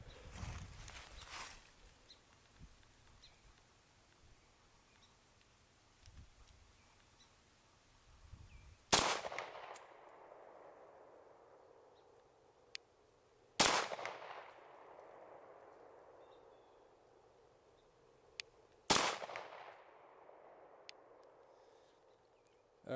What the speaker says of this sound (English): we're going to do a little bit of shooting with the RMR mounted on the Glock 34